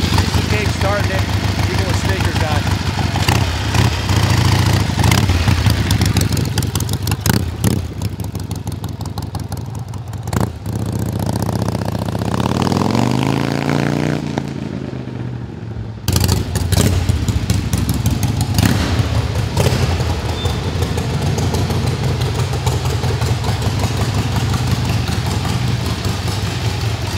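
A 1974 Harley-Davidson XLCH motorcycle engine runs throughout, a loud, close, continuous rumble that briefly drops and rises again before settling back into a steady idle. Someone talks over it.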